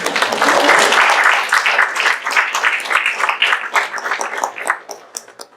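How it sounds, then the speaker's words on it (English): Graduates at a graduation ceremony break into a round of applause, dense and loud at first, then thinning into scattered individual claps as it fades over several seconds. "let's give yourself another round of applause"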